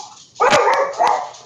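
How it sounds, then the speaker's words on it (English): Two small dogs bark indoors, a short burst of sharp, close barks followed by a second volley, loud and alone. "Sorry about the dogs."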